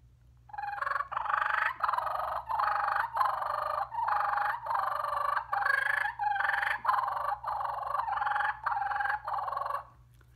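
A turkey mouth call imitates the guttural purrs of two turkeys fighting, with two alternating tones in a rapid run of loud, close, rolling bursts repeated without pause.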